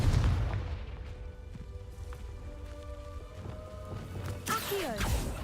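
A Confringo fire spell bursts in the Hogwarts Legacy video game. Sustained tonal game sound hums underneath, then a sharp, bright blast rises near the end, followed by a rumbling tail.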